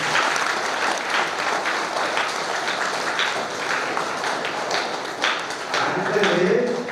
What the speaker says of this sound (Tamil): கைத்தட்டினோம்.